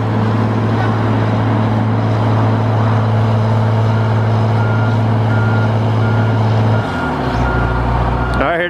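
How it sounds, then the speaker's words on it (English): A log truck's cable winch pulls back in with a loud, steady mechanical drone and engine rumble that drops in pitch near the end, set in a muddy logging area. "winching back up to the truck now."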